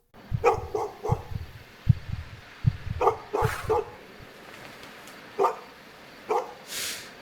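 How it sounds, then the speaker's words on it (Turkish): A dog barks in the Roblox horror game Paralysis, with a close series of sharp barks in quick clusters, then a few more spaced-out single barks, loud and clear with no talk over them. "köpek havlama"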